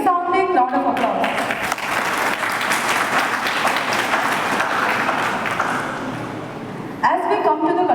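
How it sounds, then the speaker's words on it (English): Sustained audience applause at an Onam celebration held by a ship repair unit in Sri Vijaya Puram, a dense even wash of many hands clapping from about one to seven seconds, with speech before and after it. "another resounding round of applause"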